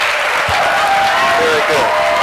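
An audience claps for general manager Jeff DeWitt at a season celebration, a steady close wash of applause with a voice speaking over it.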